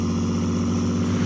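A diesel tractor engine runs at a steady idle, a constant low droning hum with an even mechanical throb held close and loud throughout.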